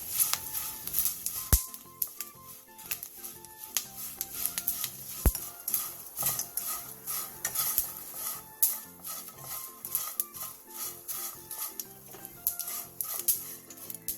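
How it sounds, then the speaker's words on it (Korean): Seaweed is stir-fried in plenty of oil in a pan over medium-low heat, with a utensil scraping and clicking steadily against the pan over a soft, faint sizzle. "팬에 기름을 넉넉하게 두르고 중약불에서 예열한 뒤 미역을 넣고 2분"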